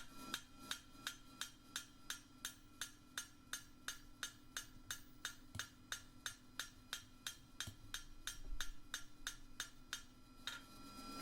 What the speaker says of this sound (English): my hammer's going off the edge rather than hitting the anvil